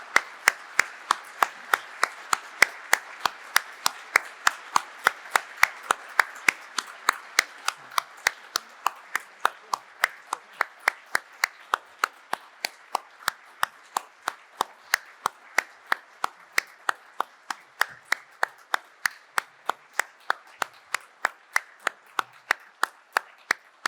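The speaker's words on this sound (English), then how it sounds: "I'd like to ask you to join me in one more round of applause for these terrific law enforcement officers" Sharp rhythmic clapping at an outdoor ceremony honoring law enforcement officers and their families, evenly spaced crisp claps in a steady beat lasting over twenty seconds, with a soft wash of other hands beneath.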